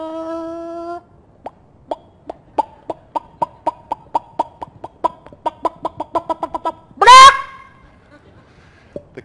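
A chicken clucks in a quick run of short, evenly spaced clucks that speed up toward the end, close and clear, followed by a loud squawk, with no voices.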